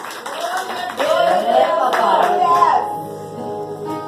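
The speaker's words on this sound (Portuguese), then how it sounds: "Então aplauda o Senhor nessa noite" A church congregation clapping in praise at an evening service, sharp rhythmic hand claps mixed with sung or sustained tonal voices and music, loud and close, easing off toward the end.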